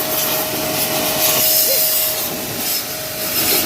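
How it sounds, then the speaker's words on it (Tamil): A motorised washing machine sprays a scooter clean, making a loud, steady hissing rush with a constant motor whine beneath it, close by and uninterrupted. "தம்பி இப்போ வண்டியை கழுவி கொடுத்துட்ருக்கான்"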